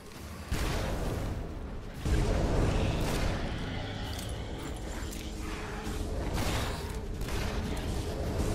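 Firecrackers going off in the video game Shadow Warrior: dense, crackling bursts of explosions that fill the scene, with a sharp burst early and loud, continuous popping and rumbling throughout.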